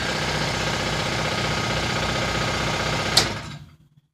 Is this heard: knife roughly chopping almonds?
no